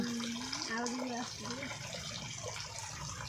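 Heavy water pours in a strong, steady flow as it fills a yard, a constant close rush with someone talking over it.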